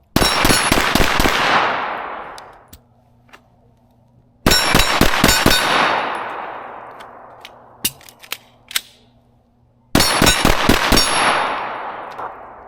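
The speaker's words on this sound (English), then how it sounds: "Shooting a little high here." Walther VP9 pistol fired in three rapid strings of sharp, loud shots with ringing echoes on an outdoor range, pauses and a few faint clinks between strings.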